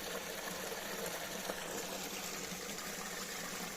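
Creek water pours steadily during a refill while a pump engine runs at a constant pace, giving a continuous broadband rush of flowing water that stays even and close throughout.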